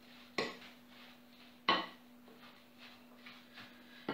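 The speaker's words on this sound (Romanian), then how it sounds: "Amestecăm puțin." A utensil clanks against a bowl while apple cake batter is stirred: two sharp knocks a little over a second apart, followed by softer scraping taps, fairly quiet in a still kitchen.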